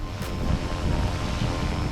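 Wind buffeting a microphone outdoors during an RC helicopter flight with an SAB Goblin 380, a loud, steady rumbling roar with gusty swells and no talking.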